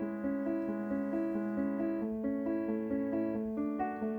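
A dry orchestral string arrangement plays a steady, slow-moving melody over sustained harmony, close and clean with no added reverb or talking.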